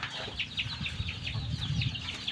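Chickens cluck in a low-cost coop, with a busy run of overlapping soft clucks and rustling and brighter calls repeating every few tenths of a second at moderate volume.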